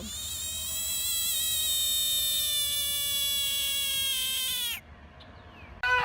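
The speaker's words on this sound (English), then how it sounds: "his buddy frog" A frog croaks in a long, loud, continuous buzzing trill close by, then stops abruptly, followed by a brief quiet and a short renewed burst at the end.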